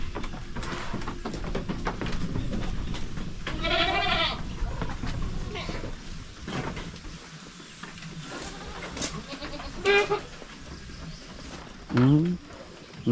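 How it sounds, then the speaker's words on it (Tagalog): An old goat on a farm bleats several times, sharp and close, amid a busy mix of background noise and people talking. "Isa po siya sa pinakamatandang kambing natin dito."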